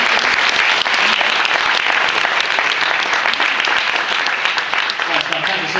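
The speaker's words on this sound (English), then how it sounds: "give him a round of applause and take a photo" An audience at a number crunchers competition gives loud, dense, sustained applause after a contestant recites pi, close and continuous clapping across the whole stretch.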